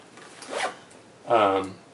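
An exterior pocket zipper on a The North Face Recon backpack opens in two quick, close zips, the second longer and louder, with no talking.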